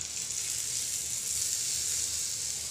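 Steady, hissing sizzle of a hot oil and spice tempering poured over moong dal, continuous and close, with no talking.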